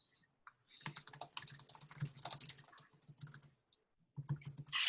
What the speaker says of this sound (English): Yeah, you're typing.